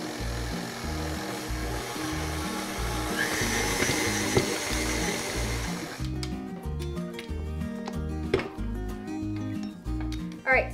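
An electric stand mixer churns stiff pretzel dough with a steady, droning motor hum and rhythmic thumping for the whole stretch, with a clattering, rattling texture in the later part.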